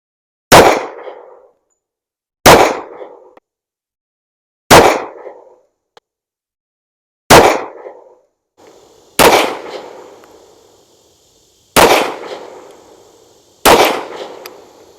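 A Tisas M1911 A1 pistol firing Federal HST defensive ammunition outdoors, seven loud single shots spaced about two seconds apart, each with a sharp crack and a short decaying echo.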